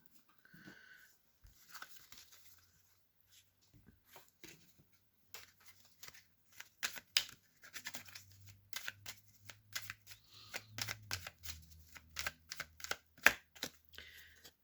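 Making Magic oracle cards being shuffled close up, soft riffling and slapping bursts that grow busier and louder toward the end, with quiet rustles and taps earlier.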